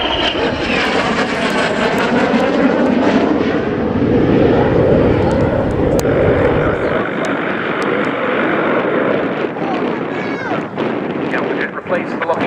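A Dassault Alpha Jet of the French Air Force flies a display at an airshow, its loud jet roar sweeping steadily across the whole stretch, swelling midway and easing slightly toward the end, with a faint voice underneath.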